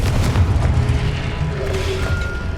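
A Confringo blasting spell erupts in Hogwarts Legacy, a loud, close, booming explosion with a rumbling low-end roar that carries through the whole moment without letting up.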